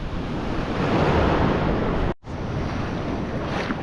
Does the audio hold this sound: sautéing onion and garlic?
no